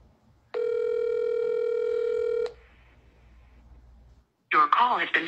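A phone call goes unanswered: a long steady ringback tone sounds for about two seconds, then a quiet line hiss and a brief pause before a voice speaks.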